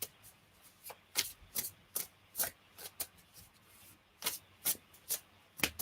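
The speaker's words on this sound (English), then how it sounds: "I'll continue to shuffle." Tarot cards are shuffled by hand in a quiet room, a string of soft, crisp riffling bursts in an uneven rhythm with short pauses between them.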